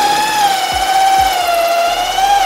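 Electric drill spinning a swage tool into copper pipe for AC and refrigerator work, giving a loud, steady high-pitched whine that holds throughout, with a few low knocks underneath.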